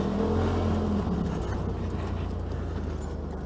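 A 2018 Polaris RZR XP Turbo grinding through muddy ruts off-road, its engine droning low and steady with rough bumping noise and gradually easing loudness, no voices.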